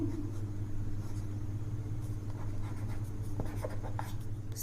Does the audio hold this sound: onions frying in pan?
no